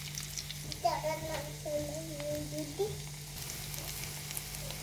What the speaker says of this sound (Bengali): তেলটা যখন গরম হয়ে গিয়েছে তখন আমি আলু আর ডিমের মিশ্রণটা দিয়ে দিয়েছি।